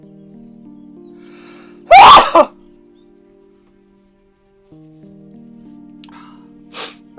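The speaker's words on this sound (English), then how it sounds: "I'm going to sneeze." A single sharp, loud human sneeze bursts out over soft background music, followed by a brief snort, and then a person speaks.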